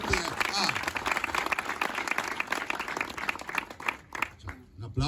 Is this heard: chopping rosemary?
no